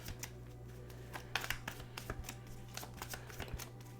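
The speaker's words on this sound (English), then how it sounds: "I know you hear me shuffling" A deck of cards is shuffled for a reading, giving soft, quiet rapid riffles and crisp flicks in an irregular, repeating rhythm, close by and alone with no talk.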